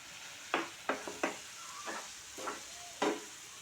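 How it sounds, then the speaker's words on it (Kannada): A spoon stirs and mixes a masala pav spice mixture in a hot pan, making a handful of quiet scraping strokes at an irregular pace over a faint sizzle. "ಈಗ ಇದನ್ನೆಲ್ಲ ಸೇರಿ ಕರೆಕ್ಟಾಗಿ ಮಿಕ್ಸ್ ಮಾಡ್ಕೊಳ್ಳೋಣ"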